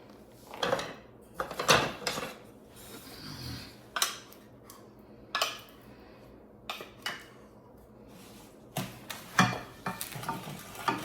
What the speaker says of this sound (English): we're just stirring all of this with like a wooden spoon